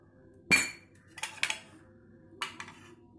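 A spoon clinks against a cup while stirring ABC juice with honey and half a lemon's juice. A sharp strike is followed by a few lighter, scattered taps against quiet background.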